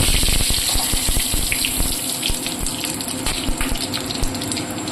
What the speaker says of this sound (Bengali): আমি এবার জিরা, তেজপাতা, গোটা গরম মশলা ফোড়ন দিয়ে দেব।